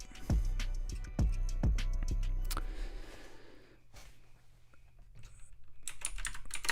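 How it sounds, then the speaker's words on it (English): Quick typing on a computer keyboard during a live stream: a few heavy thumps are followed by a run of light, close key clicks and taps, with no talking. "Let's type into the chat again."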